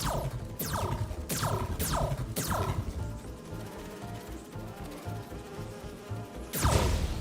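Insect buzzing from bees in the Marvel's Spider-Man 2 video game, a steady droning hum under repeated sweeping whooshes and game effects, fairly loud and continuous with no talking.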